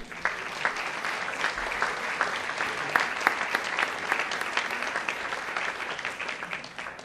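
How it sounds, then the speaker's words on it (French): Continuous applause from an audience at a sports-study scholarship ceremony, dense and even throughout with individual claps standing out, at moderate distance. "Encore une bonne main d'applaudissements."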